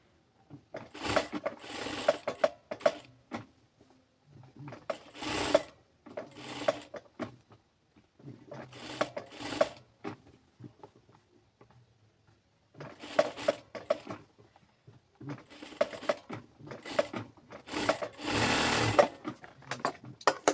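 A sewing machine stitches around a kameez neckline in repeated short bursts, each a quick rattling run of needle strokes separated by quiet pauses, close and moderately loud.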